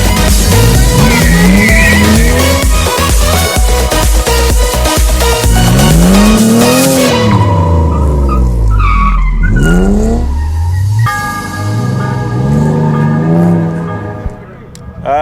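BMW race cars slide around a skid pan at a season-final event, tyres squealing in long rising and falling wails over loud engine revving, close and continuous.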